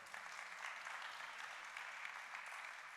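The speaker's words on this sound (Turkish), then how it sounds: "Kendilerini alkışlarınızla sahneye davet ediyorum." Steady applause from an audience at an award ceremony, dense and continuous clapping at moderate volume throughout, with no talking.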